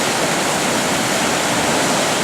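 The River Torrens near Adelaide running full in winter, a loud steady roar of rushing water that fills the whole sound with no pauses and no voices.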